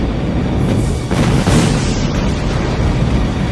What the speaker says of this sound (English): I'm just gonna detonate the ship and run away like a coward.